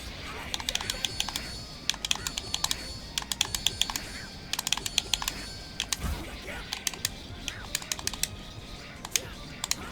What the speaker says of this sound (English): D-pad is as clicky as the buttons.